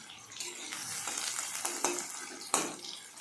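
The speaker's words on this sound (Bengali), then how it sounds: "পেঁয়াজটা যতক্ষণ না ভাজা ভাজা হবে ততক্ষণ আমি মশলা কিছু দেবো না" Chopped onions fry in a pan, a soft hissing sizzle that swells with a few stirring swipes, close by and without any talking.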